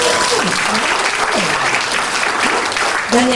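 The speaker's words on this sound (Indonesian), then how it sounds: "Tepuk tangan Tuhan." A church congregation claps loudly and continuously in a dense, steady wave, with voices and a rising shout faintly audible within the applause.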